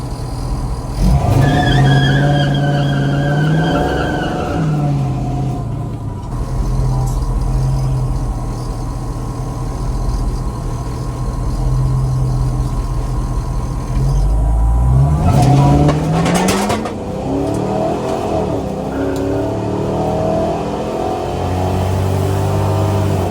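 A Ford Mustang revs hard during a street race, its engine climbing through gears with rising and falling pitch, loud and near, easing to a rumbling idle in the middle before accelerating again.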